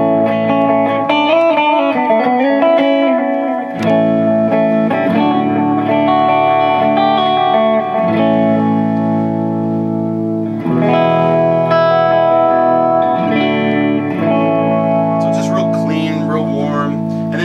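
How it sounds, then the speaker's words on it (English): An EVH Wolfgang Standard electric guitar played through an EVH 5150III amp with analog delay rings out in loud, sustained distorted chords and notes, with ambient repeats trailing between phrases. "I have a analog delay just to kind of add a little bit of ambiance to it"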